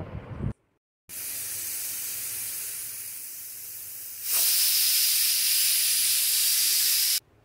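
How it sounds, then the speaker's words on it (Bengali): A pressure cooker holding moong dal with bitter gourd blasts out steam in a loud, steady hiss that grows stronger partway through and then cuts off abruptly. "সেই জলেই কিন্তু আমি ডালটা সিটি মেরে নেব।"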